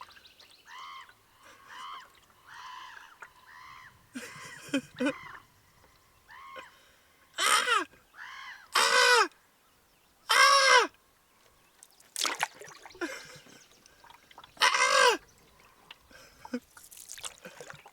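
Repeated bird calls outdoors in a small canyon, some short chirps and louder descending cries, with pauses between them; a person seems to imitate the calls at times.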